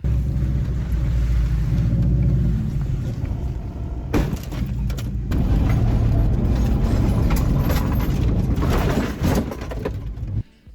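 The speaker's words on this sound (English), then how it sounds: "this is a 2005 Subaru WRX" A 2005 Subaru WRX in worn condition idles with a steady low engine rumble, close by, with some clatter and shifting noise partway through and a sudden cutoff at the end.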